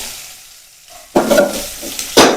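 Spices hit hot oil for tempering okra curry with a sudden loud sizzle that keeps crackling, then flares up again in a second burst near the end.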